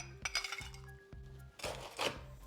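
Ice cubes clink into a cocktail shaker while a red rum tiki cocktail is being made, several sharp glassy clinks in quick succession up close, with no talk over them.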